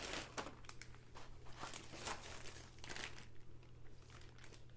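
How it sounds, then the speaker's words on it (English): A plastic bag is handled up close during sewing work on a cone-shaped cape, giving quiet, irregular crinkles and rustles over a steady low hum. "This is a good plastic bag"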